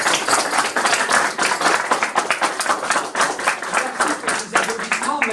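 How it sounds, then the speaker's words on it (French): An audience at a medal ceremony breaks into sustained applause for Jean-Michel, dense steady clapping filling the room from start to finish at a fairly loud, even level. "je vous demanderai des applaudissements pour Jean-Michel"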